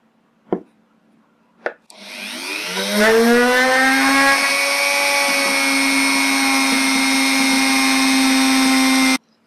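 Two short taps, then a loud, steady power drill whine starts, ramps up in pitch and holds for several seconds before cutting off.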